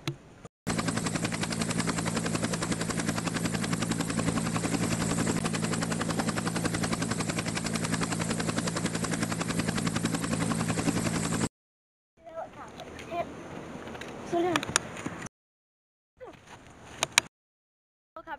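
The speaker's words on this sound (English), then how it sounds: "Get to the chopper." A helicopter flies close by in a loud, steady rotor drone with rapid chopping pulses for about eleven seconds, then cuts off abruptly, followed by quieter, broken-up sounds and brief bursts of noise separated by silence.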